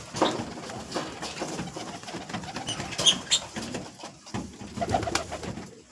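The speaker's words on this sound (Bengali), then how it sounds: "দেখো নতুন পায়রাটা চলে এসছে" Pigeons at a bird sale on a rainy day, close, repeated soft cooing calls with occasional rustling and wing movement, overlapping irregularly.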